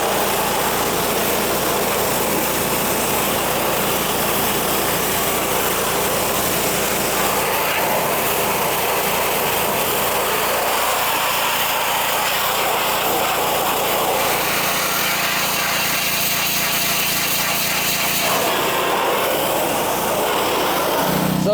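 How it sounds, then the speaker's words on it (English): Small gasoline engine on a pressure washer running loudly and steadily close by, with a buzzing drone that shifts in tone partway through as the load changes. "Pressure washer time."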